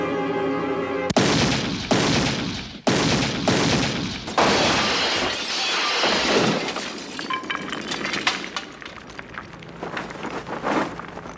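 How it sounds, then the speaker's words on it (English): Polystyrene breakaway glass shatters in a staged movie stunt at a Universal Studios Florida show, with several loud, sharp crashes in quick succession followed by scattered tinkling debris and shuffling movement. "that was polystyrene breakaway glass"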